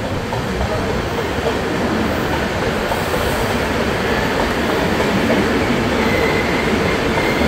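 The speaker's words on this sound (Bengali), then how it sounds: "দু নম্বর প্ল্যাটফর্মে ট্রেন দিয়েছে।" A Kanchankanya Express train rumbles loudly and steadily at Dakshineswar station, a dense continuous roar of rolling wheels on track that holds close the whole time.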